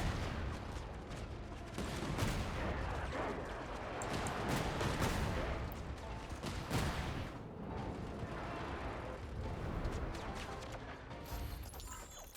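Explosions and rapid blasts from combat in Genshin Impact keep booming over a dense, continuous game soundscape, with bursts packed closely together and no clear pauses.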